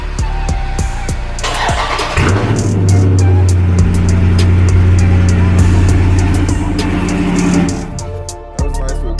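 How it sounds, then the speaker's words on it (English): A Dodge Charger Daytona 392 V8 fires up from a cold start with a loud crank and roar, then holds a deep, steady high idle for several seconds before cutting off, close to the microphone. "let's go ahead and get this cold start though"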